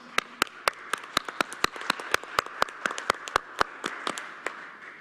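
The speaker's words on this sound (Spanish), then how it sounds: "Un aplauso, sí." Sparse, distinct hand claps at an indigenous peoples rights committee session, a few people clapping in an uneven rhythm against a quiet room.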